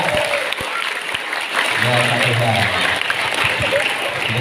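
Audience applause at a school traffic-safety talk given by a police officer; steady clapping from a room of listeners running throughout, with a voice speaking briefly over it.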